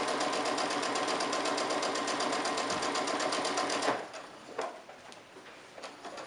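A sewing machine runs steadily, stitching around the edge of fabric for a mask cover, a fast even whir that goes on for about four seconds and then stops, followed by faint handling noises.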